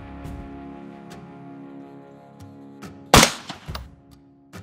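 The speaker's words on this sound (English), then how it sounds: "Now we're going to take one more shot just to confirm zero" A single sharp rifle shot cracks out loud and close, fired to confirm the scope's zero during sight-in, set against a steady low hum, with a brief decaying tail and lighter clicks after.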